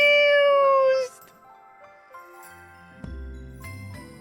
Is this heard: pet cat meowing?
yes